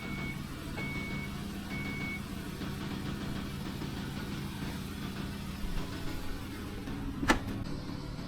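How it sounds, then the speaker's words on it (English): A Chrysler Town and Country minivan's power rear gate closes, with a steady low motor drone and a sharp latch thunk near the end, along with intermittent high beeps. "I can go ahead and close my rear gate."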